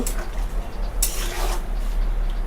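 Red chilli powder being stirred into path saag in a pan gives a soft, steady scraping and rubbing that swells into a brighter, louder scrape midway, then settles back to a low stir.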